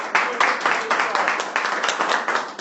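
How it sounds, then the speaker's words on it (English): An audience at a network marketing training session claps in a short burst, steady rhythmic slaps from a modest group, fairly close and even. "Let's give them all a round of applause"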